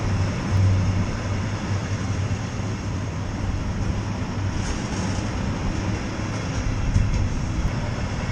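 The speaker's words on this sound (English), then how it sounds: "It's a long, long train though." A long train rolls past near Hellifield in North Yorkshire, a loud, continuous rumble and rush of carriages that stays steady from start to finish, heard alone without speech.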